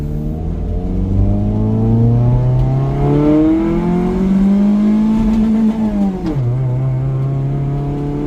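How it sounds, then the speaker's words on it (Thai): A Toyota Corolla sedan with a 1.3-litre engine accelerates hard through its manual gears, the engine note climbing and dropping back at each shift, loud and heard from inside the car. "เอาละครับเดี๋ยวเราจะมาลองซัดกันสักห้าเกียร์นะฮะ"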